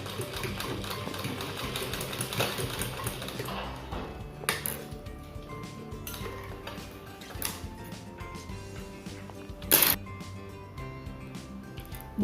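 Sewing machine stitching velcro onto a homemade cloth mask, a fast even rattle up close that slows and stops before resuming in shorter runs, with a sharp clack near the end.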